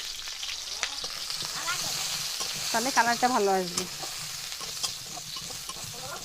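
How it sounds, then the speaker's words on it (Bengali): Cauliflower florets with a little turmeric frying in hot oil in a kadai, a steady close sizzle with crackles and stirring, while someone speaks briefly over it. "ফুলকপিগুলো ভেজে নেব।"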